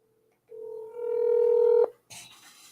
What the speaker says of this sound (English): Let me call the number and see if he can answer.